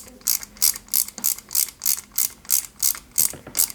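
A small metal screw is driven into a metal accelerator-pedal bracket on a 1:8 scale Lancia 037 model kit, giving about ten evenly spaced crisp ratcheting clicks, close and clear with no talking.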